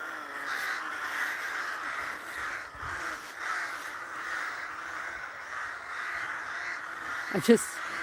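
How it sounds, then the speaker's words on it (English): Many crows caw continuously in a dense, overlapping chorus at a moderate distance, roosting above a historic churchyard at dusk, with a brief rustle near the end. "I can't get over how many crows we have."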